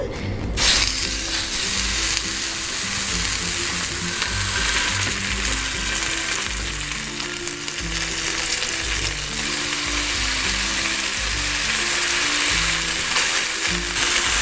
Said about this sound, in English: Now I'm gonna add the patties to the pan.